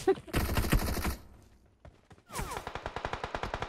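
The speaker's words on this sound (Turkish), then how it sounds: "Ay bana sıkıyorlar." Rapid gunfire aimed at the player in an online shooter game. A dense burst sounds first, then after a short lull comes a steady run of evenly spaced automatic shots, close and loud, with voices mixed in near the start.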